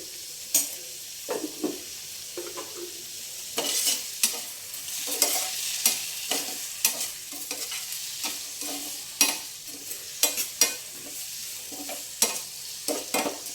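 Carrot, coconut and tomato chutney cooking in a pan, a soft steady sizzle broken by repeated scraping stirs of a spoon at an irregular rhythm, close and with no talking.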